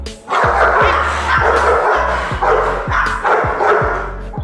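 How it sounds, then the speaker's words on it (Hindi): Two dogs bark aggressively at each other in a rapid, continuous exchange of loud, close barks and yips, layered and overlapping with a few brief whimpers, with no talk over them. "लेकिन फिर भी जब भी दरवाजा बंद किया जाता तो ये दोनों अपने भौंकने वाले"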